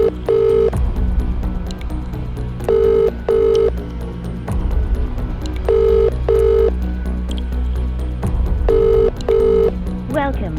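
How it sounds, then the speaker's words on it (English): A phone call placed on the EE network rings out with a repeating UK-style double ring tone. Paired electronic buzzes come in evenly spaced bursts several times, loud and clear over a faint background. "let's just give him a quick call and see if we can get hold of him tonight"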